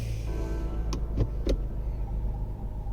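A Range Rover idles with a steady low rumble after starting, a few short clicks and knocks from the cabin as the gear is selected, close and even throughout.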